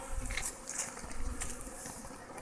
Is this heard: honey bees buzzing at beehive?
yes